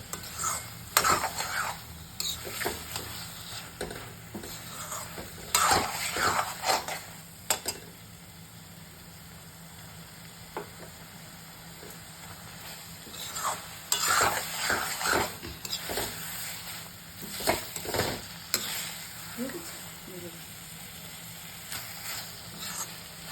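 Potatoes and green peas stir-fried in a pan: bursts of spatula scraping and stirring come and go over a soft continuous sizzle, close and fairly loud, with no talking.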